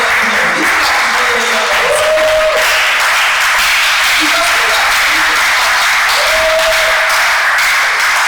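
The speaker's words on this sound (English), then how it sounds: "Please clap for her." An audience at a kidney awareness conference in Abuja applauds loudly and continuously, a dense close wash of many hands clapping that fills the whole stretch, with faint voices and tonal sounds underneath.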